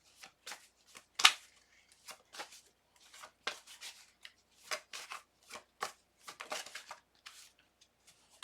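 Tarot cards are shuffled and drawn, a quiet close series of quick papery flicks and riffles in irregular bursts, with short gaps between them.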